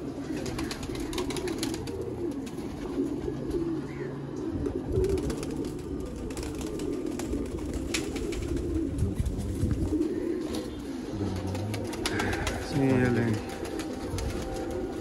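Sialkoti pigeons in a loft cooing softly in low, rolling phrases that repeat throughout, with someone talking over them nearby and a few brighter calls near the end.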